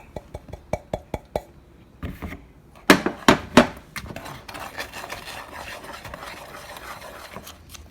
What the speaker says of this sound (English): stirring it up, getting it all combined, incorporated